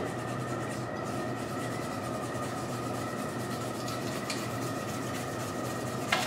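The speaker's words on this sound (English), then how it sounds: "you do want to scrape off this extra epoxy from whoever last used the mold" A razor blade scraping leftover cured epoxy off a mold, a continuous close rasping scrape that runs steadily without pause, no talk.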